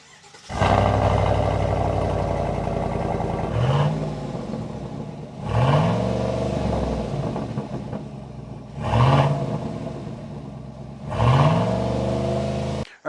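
A Chevy Silverado pickup engine with an upgraded MAF sensor drones loudly and steadily, revving up in several surges as it shifts through gears while driving, with no voices.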